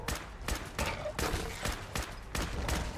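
Rapid bursts of gunfire from the Fallout 4 video game, about six sharp volleys repeating at an even, fast rhythm, loud and close, with no talking.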